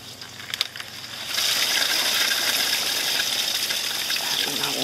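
Water gushes and splashes steadily, a loud continuous pour as excess water is dumped out of a garden container, starting abruptly after a few faint knocks.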